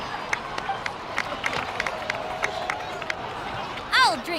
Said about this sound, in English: Please give another round of applause for them.